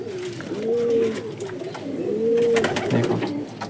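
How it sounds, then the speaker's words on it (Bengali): Domestic pigeons cooing nearby, two drawn-out throaty coos over a low background hum, with faint rustling in between. "নিজেদের পায়রাকে সুস্থ রাখুন"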